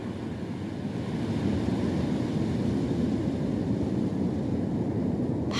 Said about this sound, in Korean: 파도 소리 들리시죠?